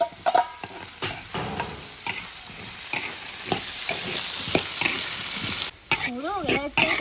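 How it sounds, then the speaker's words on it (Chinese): Potato slices fry in hot oil in a pan with a loud, continuous sizzle, punctuated by repeated scrapes and knocks of a spatula stirring them close up. "土豆片入锅，"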